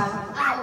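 A voice imitates a dog's bark in a single short, close yip during a Filipino animal-sounds guessing game, with a bit of background room noise.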